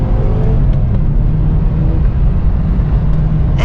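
A sports car engine rumbles loud and close in a steady, heavy low drone, with slight swells in revs throughout and no voices.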